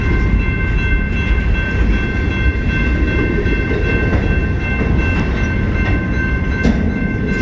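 A CN freight train rumbles past nearby in a steady, loud roar of rolling cars and wheel noise, with faint clicking joints and a brief horn-like tone late on, no talking over it.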